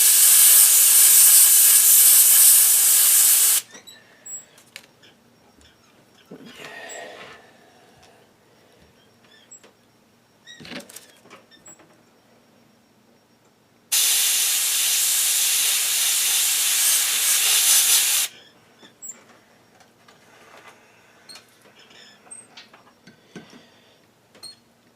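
An airbrush sprays paint through a stencil onto the gill plate of a bluegill-pattern fishing lure in two long, close, loud hisses. Quiet stretches with faint clicks and handling noises fall between them.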